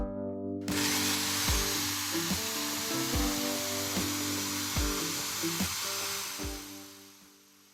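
Mosaic-pattern damascus steel knife blank ground out on a power grinder, a loud continuous grinding hiss with a humming motor and repeated pitch dips as the steel is pressed in, spinning down at the end.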